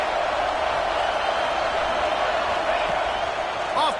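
Roar of a stadium crowd in a college football video game. The noise is a constant, dense wash of massed voices that stays loud the whole time, with a faint whistle-like tone near the end.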